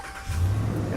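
A 2016 Ram 1500 Laramie 4X4 pickup engine turning over from push-button start, a brief low rumble rising as the motor catches and settles into a steady idle, close and fairly loud.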